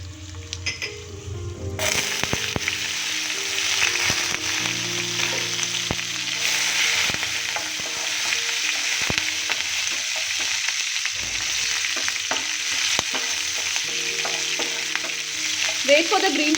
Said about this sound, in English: Wait for the green chilies to fry well.